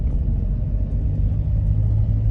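Car driving on a road, a continuous low engine and road rumble heard from inside the vehicle, steady and fairly loud with no talking.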